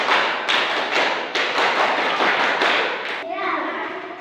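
Children perform a scout-style rhythmic clap, a series of loud, sharp group claps in a steady pattern, with young voices chanting in the final moment.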